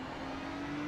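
A Ferrari 296 GT3 race car runs at Fuji in iRacing, its engine holding a steady, fairly faint drone with a constant pitch and no voices over it.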